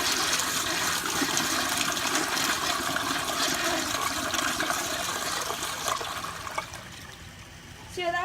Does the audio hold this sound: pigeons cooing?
no